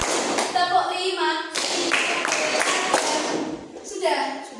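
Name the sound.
children clapping in a counting cheer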